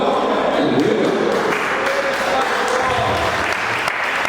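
Audience applause at a motivational talk in Iguatemi, steady dense clapping from a crowd throughout, with voices and shouts mixed in underneath.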